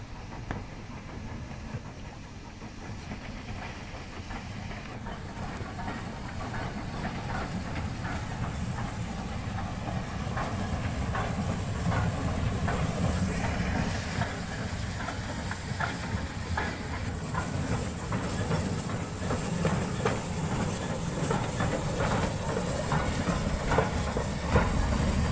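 A train rolls steadily along the rails, a continuous rumble and hiss with faint rhythmic clicking that slowly grows louder.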